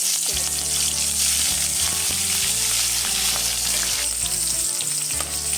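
Prawns frying in hot oil in a kadai, a loud, continuous close-up sizzle with spatter crackle and occasional stirring throughout.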